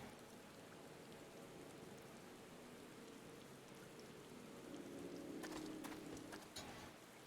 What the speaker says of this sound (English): is the rain part of the... Is the rain on purpose?